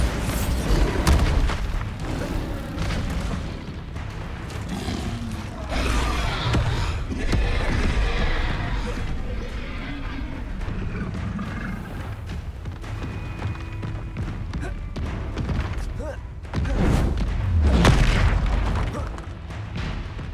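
Bombarda blasting spells from Hogwarts Legacy burst again and again through a long spell-heavy duel, with deep booms and crackling impacts rising and falling over a dense, continuous wash of combat noise.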